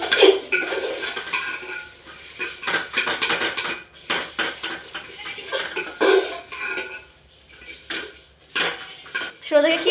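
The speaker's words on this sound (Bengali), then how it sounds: "মা রান্নাঘরে সিমই ভাজছে ঈদের জন্য" Semai vermicelli frying in a pan in a home kitchen before Eid: a soft sizzle sits beneath frequent clattering of a metal spoon scraping and stirring against the pan, close and busy.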